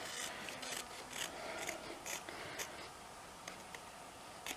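Excess paper is trimmed from a sea-themed art journal tag, giving close, quiet rasping and rubbing strokes in short uneven bursts, with no voices.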